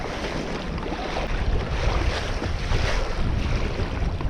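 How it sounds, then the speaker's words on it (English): A boat cuts across open water on a lake in cold, windy weather, with steady loud wind buffeting and rushing water noise throughout, no voices. "I'm just cutting across one of the main parts of the lake right now"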